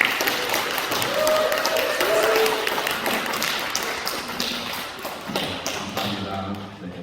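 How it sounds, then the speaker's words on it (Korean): A church congregation claps to welcome the pastor at a Sunday worship service, a moderately loud round of applause that fades toward the end as voices and shuffling take over. "이 시간 목사님 나오실 때 큰 박수로"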